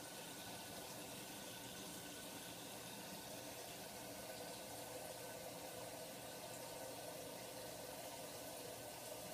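Water pours steadily into the refugium compartment of a 29-gallon saltwater reef tank, a dense, even rush with no pauses, fairly close and moderately loud throughout.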